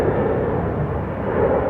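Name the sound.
airplane flying over Atlanta airport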